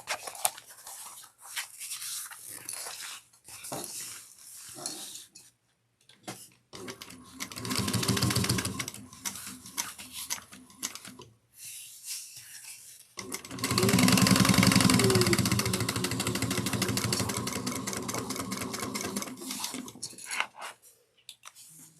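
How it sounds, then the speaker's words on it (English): A sewing machine top stitches a slip pocket at an eighth of an inch, running in a few bursts of steady whirring separated by pauses, the longest run coming near the end. "we are going to top stitch to make a nice pretty slip pocket at 1/8 of an inch"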